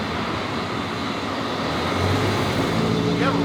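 A Roush Mustang engine, billed as the most powerful in the world, roars loud and steady as it runs against the rev limiter, its pitch climbing and sharpening toward the end.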